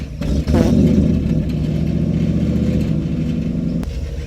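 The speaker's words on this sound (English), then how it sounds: "Idling into the shed, you can see the 1972 Ford F-350 with a Jaguar E-Type on its bed" A 1972 Ford F-350 truck carrying a Jaguar E-Type on its bed rumbles at a steady low idle close by after a brief rev at the start, filling the clip alone.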